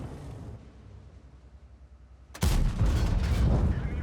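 A tank cannon fires in the World of Tanks video game from a TS-60 tank: one loud, sharp blast that cuts through a quiet background and then rumbles on, with no talk.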